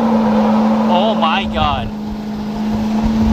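A big-turbo diesel GMC Sierra 2500HD with a coilover conversion drifts, its engine holding a loud, steady drone while a nearby voice exclaims over it.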